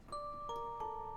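Short bell-like synth notes from the Belltone 1 preset in FL Studio's Random Lab ring out faintly in a quick rising-and-falling sequence, clean tones sustaining over a soft background.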